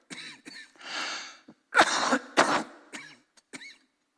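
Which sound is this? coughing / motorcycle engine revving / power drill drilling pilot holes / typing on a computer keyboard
coughing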